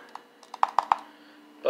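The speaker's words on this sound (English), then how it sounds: "Both buttons clicking nice and easy." Button clicks of a Razer Mamba Wireless mouse after a double-click fault repair: a quiet, irregular run of about six sharp clicks, the last three louder and close together, followed by a brief low noise.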